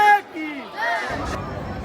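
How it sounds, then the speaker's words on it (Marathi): Crowd of people waiting in line at the Tuljabhavani temple on a busy Sunday, a brief wash of murmuring chatter and babble around a nearby voice. "आज रविवार असल्यामुळे खूप गर्दी आहे"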